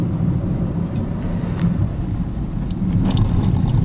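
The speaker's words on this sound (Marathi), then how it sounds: "तिथं कसं रितेश गाडी चालवतो." A car climbs a mountain ghat road on the way to Raigad Fort, its engine and road rumble steady and close from inside the vehicle, with faint rattles and clicks.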